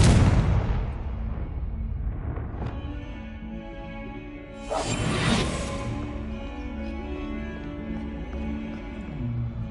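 A Confringo blasting spell explodes in Hogwarts Legacy, a single loud burst about midway through that rises above steady background music and fades into a lingering rumble.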